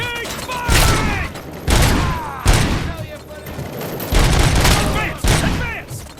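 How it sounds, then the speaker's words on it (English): Gunfire in the RoboCop: Rogue City video game rattles out in heavy, loud bursts, with booming shots and repeated volleys close up and one sharp blast, while game voices call out between the rounds. "Keep firing!"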